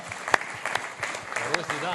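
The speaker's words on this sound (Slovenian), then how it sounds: "En aplavz za našo Katjo" Audience applause at an EU panel event, scattered and fairly light clapping from a modest crowd with a few sharper individual claps standing out, brief and uneven.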